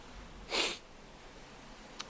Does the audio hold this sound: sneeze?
yes